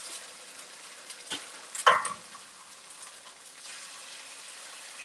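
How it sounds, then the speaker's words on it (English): A short burst of sizzling as eggs hit a hot pan, with a brief crackling peak before settling into a low, steady hiss. "Pan's nice and hot. You hear the sizzle."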